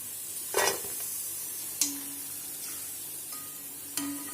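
Elephant foot yam pieces fry in hot oil with a soft continuous sizzle, punctuated by a few sharp metallic clinks of a utensil against the pan; no talking.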